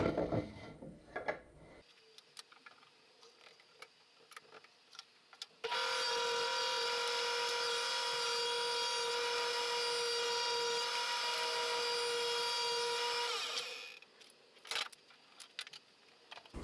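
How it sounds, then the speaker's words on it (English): Power planer shaving down oak boards, a sustained loud whirring cut of about eight seconds, framed by quieter handling clatter before and after. "Here I am planing down some oak, which will become my runners to fit into the miter slots in my table saw."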